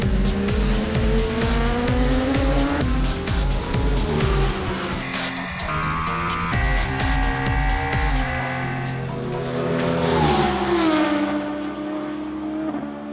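BMW S 1000 XR and F 900 XR motorcycles, 2020 models, ridden fast: loud, continuous engine roar with rising and falling revs and gear changes, holding close throughout before easing toward the end.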